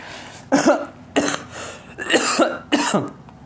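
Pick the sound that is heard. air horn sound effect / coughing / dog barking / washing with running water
coughing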